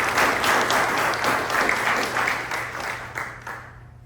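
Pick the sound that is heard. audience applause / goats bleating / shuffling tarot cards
audience applause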